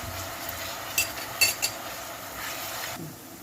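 Onion, pepper paste and tomato paste frying quietly in a pan, with a spoon scraping and clinking against the pan a few times and a soft sizzle underneath.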